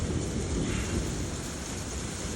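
Thunder rumbling through a hailstorm, with a steady broadband roar of heavy precipitation and low rumble filling the whole span, loud and continuous with no voices.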